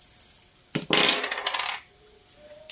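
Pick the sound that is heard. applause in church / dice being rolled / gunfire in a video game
dice being rolled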